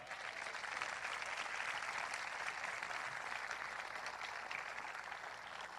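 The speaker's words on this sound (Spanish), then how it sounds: "Denle un aplauso fuerte." A church congregation breaks into a sustained wash of loud applause, dense and steady from start to finish, heard from within the hall.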